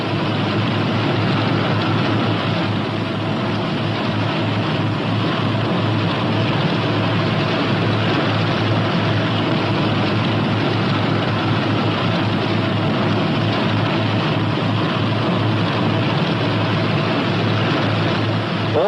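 A P-61 Black Widow twin-engine night interceptor taxis, its engines producing a loud, continuous, even drone that holds steady from start to finish with no voices.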